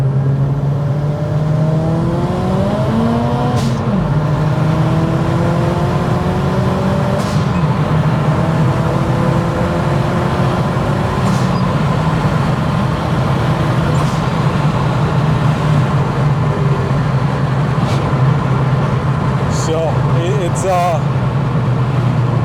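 A big-turbo Opel Corsa OPC accelerates hard, its engine note climbing steadily through the revs over a constant loud road and cabin roar, heard from inside the car with people talking over it.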